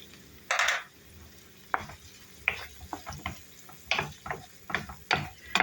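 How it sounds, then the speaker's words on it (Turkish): Peppers and onions sauté in a pan, with irregular bursts of sizzling and the clatter of stirring as the vegetables are tossed, no voices. "Sotelenen soğanlarımı üzerine doğramış olduğum biberlerimi ilave ediyorum."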